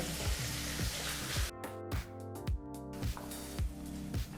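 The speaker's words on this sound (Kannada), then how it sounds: "ಟೊಮೊಟೊ ಹಣ್ಣನ್ನು ಮೀಡಿಯಂ ಫ್ಲೇಮ್ನಲ್ಲೇ ಫ್ರೈ ಮಾಡ್ಕೋಬೇಕಾಗತ್ತೆ" Tomatoes frying in a pan over medium flame, a steady soft sizzle broken by repeated rhythmic scraping or stirring strokes, close and moderately quiet, with no voices.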